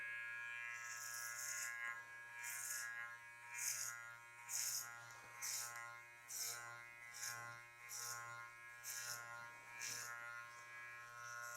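Electric hair clippers buzz steadily, quiet and close, cutting a skin fade, with a regular pulsing rhythm as the blade sweeps up through the hair in repeated passes.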